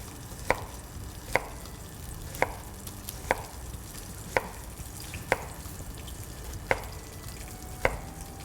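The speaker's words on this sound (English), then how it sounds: "if you're just doing your julienne, you would go this way." A knife cuts a vegetable into julienne on a cutting board, eight sharp, evenly spaced chops about one second apart, close and clear over a faint background hiss.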